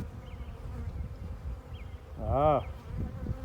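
Honey bees buzzing around a brood frame during a hive inspection: a steady close low drone, with one bee passing very near mid-clip in a louder, wavering buzz.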